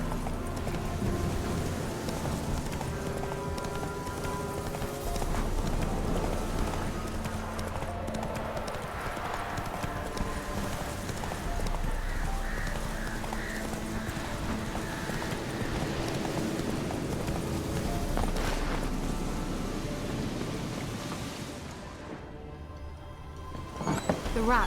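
Roach, Geralt's horse in The Witcher 3, gallops with a continuous rhythmic clip-clop of hooves close by, carried over background music and fading near the end.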